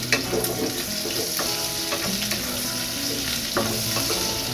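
Spaghetti-based pancit guisado stirred in a frying pan, a steady sizzle broken by scraping utensil strokes and a few sharp clinks against the pan, with no talking.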